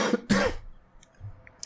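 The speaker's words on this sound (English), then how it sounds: "I'm so sorry about the coughing" A person gives two quick, harsh coughs close to the microphone, followed by near silence.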